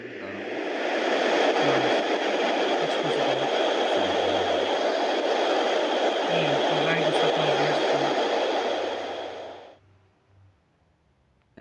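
A steady, loud engine roar like a jet aircraft in Minecraft drones for about ten seconds before cutting off abruptly, with faint voice murmurs beneath it.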